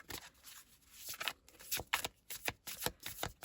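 Tarot cards being shuffled close up in a quiet room, a run of crisp riffling flicks and papery slaps in quick uneven bursts, with no one talking.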